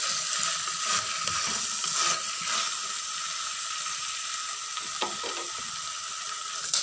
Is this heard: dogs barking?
no